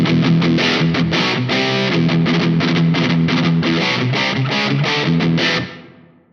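Heavily distorted electric guitar riffing through a Two Notes Torpedo Captor X with a hard noise gate, loud and dense with chugging palm-muted bursts, then the sound cuts off cleanly into silence near the end.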